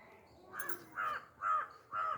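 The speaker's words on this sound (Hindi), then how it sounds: "देख लीजिए वो कौवा हेल्प मांग रहा है किसी को, अपने फ्रेंड को निकालने के लिए।" A crow caws four times in a row, each harsh call loud and fairly close, spaced about half a second apart, with no talking over them.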